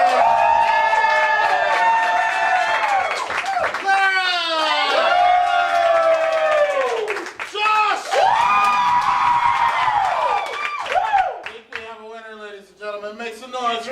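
An improv comedy show audience at the Big Dumb Improv Championship voting by noise, with loud whoops, yells and cheers rising and falling in waves, close and raucous, mixed with voices shouting over the crowd.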